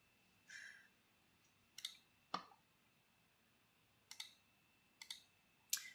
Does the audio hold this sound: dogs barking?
no